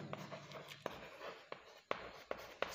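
Pen or chalk writing out an example sentence during a grammar lesson, a soft scratching with sharp taps at irregular intervals, close and quiet, with no talk.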